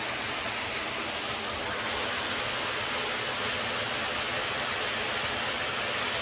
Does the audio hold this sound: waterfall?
yes